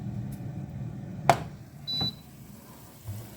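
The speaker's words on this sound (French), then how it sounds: "Un petit signal sonore retentit pour dire que la cuisson est terminée." A Chefree AF500 air fryer gives one short, quiet high beep to signal the end of cooking, surrounded by a faint background hum and a couple of soft clunks.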